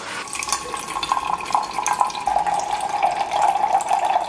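An instant hot water dispenser pours an 8-ounce measure into a cup, a steady close stream of running water with a rising filling tone, no voices over it.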